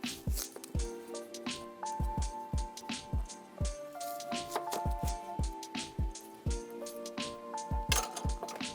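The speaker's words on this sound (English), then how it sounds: "I'm just going to cut this onion." A knife slices an onion held in the hand with no chopping board, giving a series of crisp, close, regular cutting clicks and crunches, fairly quiet with no talk.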